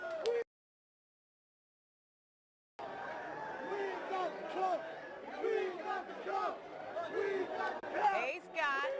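Washington crowd celebrating the Capitals' Stanley Cup win, a brief burst of noise followed by two seconds of dead silence, then loud cheering, chanting and shouting voices at close range, rising in spurts toward the end.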